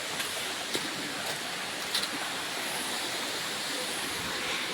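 Steady rushing water at Wazra Waterfall on the Mahurgad route, a broad continuous roar with no breaks, heard alone with a few faint soft knocks.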